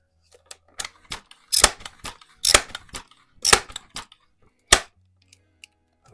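Air rifle fires a pellet at a metal ram silhouette target: a series of sharp, close cracks and clicks of differing loudness over a few seconds, with no talking.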